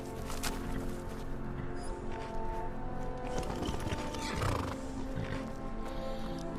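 A horse in the video game Skyrim whinnies and its hooves clip-clop in a quick rhythm, joined by game ambience and music, with no talking.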